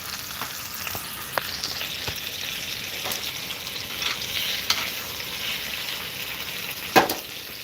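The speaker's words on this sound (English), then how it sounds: "You want to hear the sizzle when you put it on the fire." Steak sizzles steadily in a hot pan, a constant crackling hiss with a few sharper pops and a louder clank near the end.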